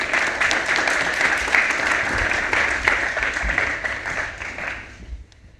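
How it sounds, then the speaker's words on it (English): Audience members at an innovation week workshop applaud a panel: sustained, crisp clapping from a roomful of people that thins and fades out in the last second. "give a hand of applause for the panel"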